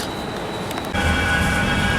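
A Manchester tram rumbles continuously nearby, with a faint high whine that jumps into a louder, fuller rolling roar partway through, alone without talk.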